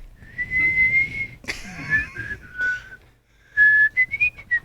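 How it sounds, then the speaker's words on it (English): A person whistles in a ventriloquist style, producing clear, high, wavering tones in short phrases separated by brief pauses, with a small burst of breathy noise in the middle. "And so now I can try the other whistle."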